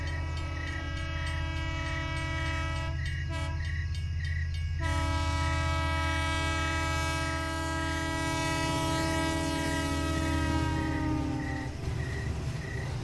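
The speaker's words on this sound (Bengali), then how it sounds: "হঠাৎ দূর থেকে শোনা গেল ট্রেনের হুইসেল" Steam train whistle blowing in long sustained tones over a continuous heavy low rumble of the engine and cars, an audio drama effect with no voices, the whistle holding steady before fading near the end.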